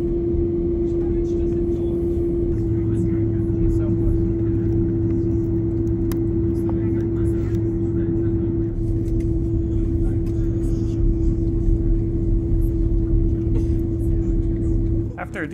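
An Aer Lingus airliner taxiing at Denver airport gives a steady, loud cabin drone with a constant tonal whine and low rumble throughout, heard from inside.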